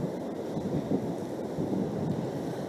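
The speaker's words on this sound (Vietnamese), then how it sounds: "Mưa đang rất to và gió đang rất mạnh." Heavy typhoon rain and strong gusting wind on a coastal road in Cẩm Phả, Quảng Ninh, a dense, steady roar with low wind rumble buffeting the microphone throughout.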